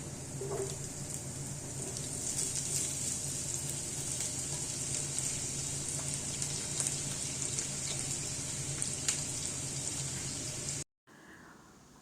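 Garlic frying in oil in a pan gives a steady, bright sizzle with faint crackles, close and continuous, before cutting off abruptly near the end.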